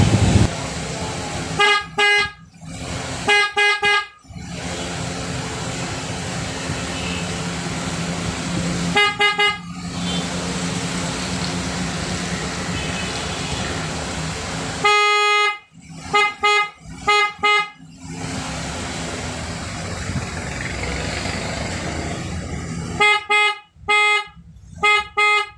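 A car horn being tested during adjustment at home sounds in repeated short honks and brief bursts, loud and close, separated by quieter stretches of workshop background.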